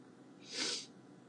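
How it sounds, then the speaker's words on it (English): A single short, soft honk of someone blowing their nose, close by and quiet, lasting under a second. "Gotta blow her nose."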